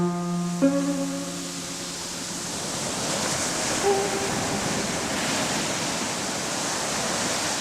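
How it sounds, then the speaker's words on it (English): Steady broadband hiss of white noise, a random noise spread across the whole audible range, running evenly and fairly loud throughout after a brief tonal hum at the start. "White noise is defined as a mixture of random noise extending over the entire audible frequency spectrum"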